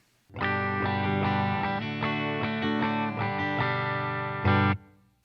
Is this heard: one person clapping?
no